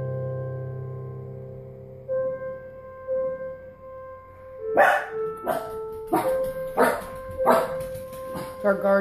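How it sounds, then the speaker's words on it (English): A guard dog barking indoors, a run of about five loud, sharp barks in close succession following a stretch of steady tones and quieter sounds, with people talking nearby. "Our guard dog, excuse him."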